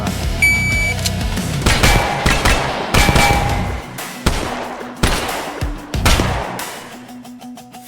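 Gunshots in the VR shooter Tactical Assault VR crack out one at a time, about eight loud, sharp reports spaced roughly a second apart, with short electronic beeps between them and no talk.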